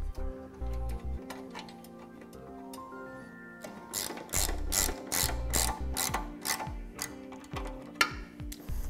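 Rapid ratchet clicks from tightening a flange nut on a Blue Ox base plate being installed on a 2010 Mini Cooper, coming in repeated close bursts with metallic tool clatter between strokes.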